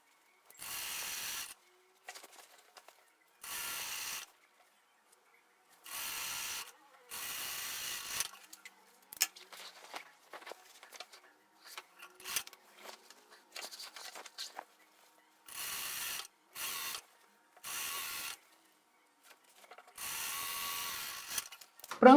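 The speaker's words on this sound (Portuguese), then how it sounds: "Você pode usar costura francesa ou pode usar overlock, que nem eu tô fazendo." An overlock sewing machine stitches the side seams of a dress in repeated short bursts, each a few seconds of fast mechanical whirring, separated by quiet pauses and small handling clicks.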